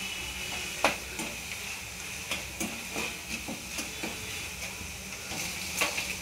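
Bitter gourd being stirred with ground spices in a frying pan, a steady sizzle and hiss with repeated scraping strokes of the spoon, close and fairly quiet.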